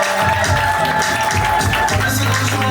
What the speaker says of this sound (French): Alexandre, sous vos acclamations, s'il vous plaît.